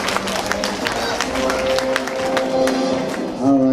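An audience at a 5th–6th grade school math competition gives the students a round of applause, with scattered claps over crowd murmur and voices throughout.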